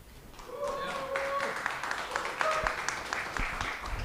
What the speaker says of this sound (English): If anyone can give you a cheer for us, I'd like to hear it.